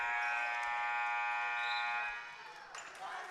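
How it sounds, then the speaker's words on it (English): Final buzzer at a varsity boys high school basketball game, Suburban versus Heartland: a loud sustained harmonic electronic tone lasting about two seconds, then fading into gym crowd noise. "The final buzzer has sounded."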